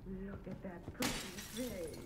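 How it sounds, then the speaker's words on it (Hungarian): Glass shatters in The Outlast Trials horror game, a sudden loud crash with a bright spray of breaking shards cutting across ongoing speech, which continues before and after the impact. "Elebasztam egyet az üvegbe"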